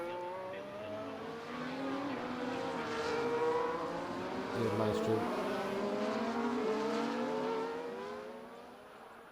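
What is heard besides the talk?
race car engines in F1 24 video game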